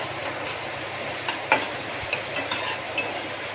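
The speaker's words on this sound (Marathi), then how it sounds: "कांदा चांगला परतून घेऊया." Onion sautéing in a pan, with a soft steady sizzle and a few light scrapes and clinks of stirring, heard up close with no talking.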